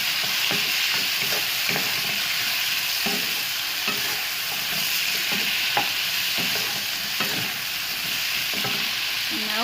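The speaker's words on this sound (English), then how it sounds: "now we use the remaining oil to cook the pineapple. We stir and cook it for a while" Pineapple pieces cook in leftover oil with a constant bright sizzle, punctuated by regular scraping strokes of a spatula stirring the pan, close up with no voices.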